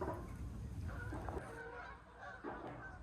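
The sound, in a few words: geese honking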